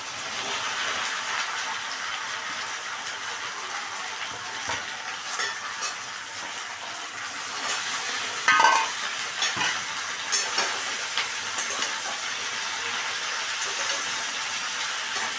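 Mixed vegetables fry with dried fish in a pan, making a steady, loud hiss and crackle with occasional stirring scrapes and a few sharper pops, close up and without talk.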